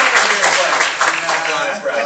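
Studio audience applause at a tech talk show fills the room as a dense, continuous patter of many hands, fairly close and loud, with voices mixed in underneath.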